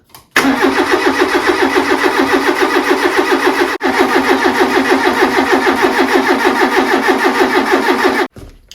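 A classic Fiat Panda 4x4 under restoration cranks loudly in a fast rhythmic chug for several seconds, pauses briefly, then cranks again without firing, close to the listener.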